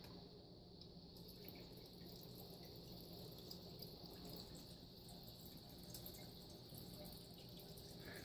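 A small indoor water fountain in a laundry room runs with a faint, continuous trickle and gentle splashing, steady and low in level throughout.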